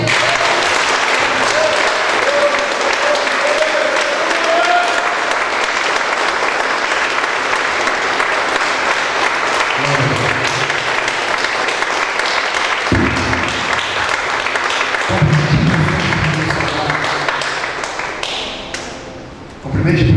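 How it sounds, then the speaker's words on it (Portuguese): Congregation in a church worship service applauding loudly and steadily for most of the stretch, dense continuous clapping with some thuds and voices mixed in, tapering off near the end. "Aplauda bem forte, Senhor."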